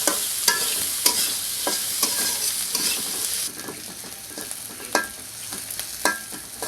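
Onion, garlic and green chillies fry in a pan, a steady sizzle broken by repeated scrapes and clacks of stirring, close and clear without talk.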